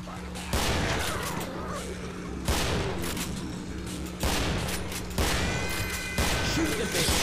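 Rapid automatic gunfire in the zombie shooter game Killing Floor, loud sustained bursts that cut in repeatedly with brief breaks, a steady low hum beneath and faint voices in the mix.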